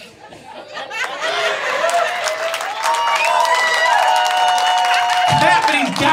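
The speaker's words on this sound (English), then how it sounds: "Clap for these goddamn people" A comedy show crowd claps, cheers and chatters, building over several seconds under a loud tonal sound with a shifting pitch that carries through most of the moment.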